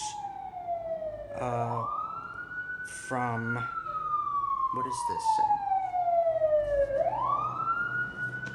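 A siren wails up and down as it passes nearby, the pitch rising and sliding in long sweeps while a person talks over it.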